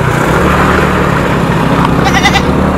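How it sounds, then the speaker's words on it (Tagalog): A goat bleats loudly and close on a misty road in the hills of Antipolo, Rizal, a short wavering call rising over steady motorcycle engine rumble and wind. "Tumahol yung kambing ah."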